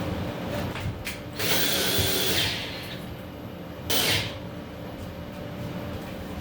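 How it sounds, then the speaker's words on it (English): Power drill driving screws through a board into metal steel studs inside a cargo trailer being converted to an ice house, two bursts of whirring drilling against a steady low background hum, no talking. "bigger screws that I'll put through the board into the metal studs"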